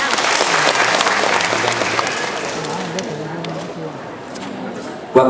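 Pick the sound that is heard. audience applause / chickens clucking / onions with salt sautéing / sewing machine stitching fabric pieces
audience applause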